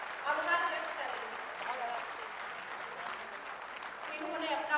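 A stadium crowd at a Rajasthan government rally claps loudly and steadily, a dense wash of applause that swells slightly at the start and the end.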